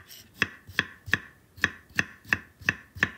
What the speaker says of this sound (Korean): 깨끗하게 한번 세척한 무는 조금 도톰한 사이즈로 채 썰어 주시고요.